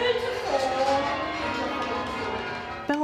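Church bells ring with overlapping sustained tones, a rich resonant wash that stays steady, and a sharper strike near the end.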